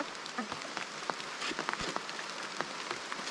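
Rain falls on a mountain hillside, a soft, steady patter sprinkled with scattered louder drops hitting nearby surfaces, heard at a distance and fairly quiet.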